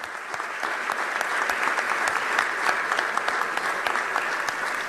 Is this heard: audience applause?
yes